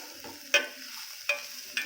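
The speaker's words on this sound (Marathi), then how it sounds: "मी तर भाजतो आहे आपला कांदा" Onion frying in oil in a pan, with a steady low sizzle under a few sharp scrapes of stirring about every second, close and fairly quiet.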